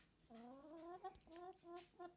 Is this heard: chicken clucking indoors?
yes